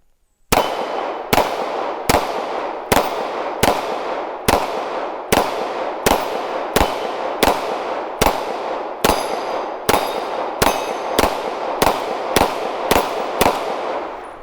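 CZ 75 SP-01 Phantom pistol fires about eighteen sharp, loud, evenly spaced shots at targets on a range, each crack followed by a short ringing decay, with no talking.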